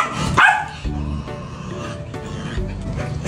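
A dog near a litter of puppies gives a loud close bark followed by softer whines and yips, with people talking throughout.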